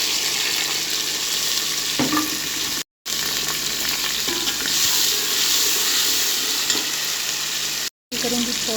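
Tomatoes sizzle and fry with browned onions and garlic in a pan for dal, a loud, steady crackle with stirring scrapes and two brief cuts to silence.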